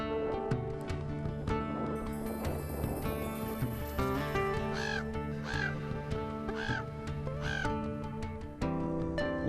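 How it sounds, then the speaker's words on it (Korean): On Kilimanjaro above 5,000 m, a crow gives a few harsh, hoarse caws at moderate distance, spaced apart over a busy background of music. "이상에서 유일하게 살 수 있다는 까마귀 울음소리"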